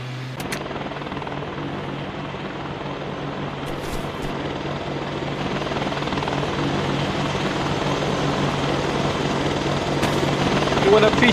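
Helicopter in the video game The Last OutBreak: a continuous rotor thrum and turbine roar that grows slightly louder over time, with brief voices talking over it.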